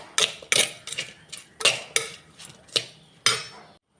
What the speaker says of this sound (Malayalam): ഈ വെളിച്ചെണ്ണയും എല്ലാതും കൂടി നല്ലോണം മിക്സ് ചെയ്യാം